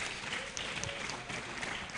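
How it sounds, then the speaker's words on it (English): An audience at a colloquium on Ghana's draft rent and housing authority bills claps for the panelists, with steady, dense applause filling the room throughout and no pauses. "Shall we give a round of applause to our panelists?"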